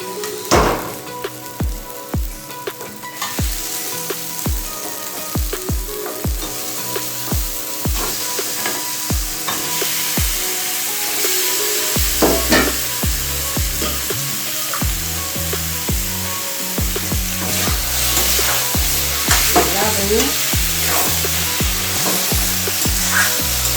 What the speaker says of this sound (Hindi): मसाला हमारा भून गया है। अब हम इसमें चिकन डाल देते हैं।